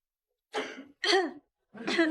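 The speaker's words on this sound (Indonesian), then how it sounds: "Dia batuk." Three short, close coughs spaced about half a second apart, fairly quiet, with nothing else around them.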